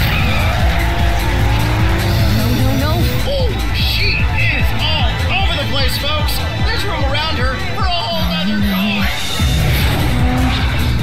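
Cars racing and skidding in an anime short film, loud continuous engine roar with repeated tire squeals and sliding screeches, dense and close, with voices talking throughout.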